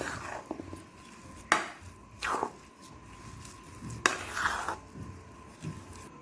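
Ground cardamom being mixed into a maida barfi mixture with a spoon in a pan: soft squishy stirring punctuated by a few sharp scraping clacks against the metal, close and without talk.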